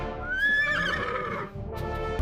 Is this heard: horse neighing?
yes